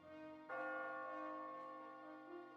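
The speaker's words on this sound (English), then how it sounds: "It's a church bell." A single deep church bell strike in the video game Catherine: Full Body rings out with a rich, lingering hum that slowly decays, heard alone with no talking.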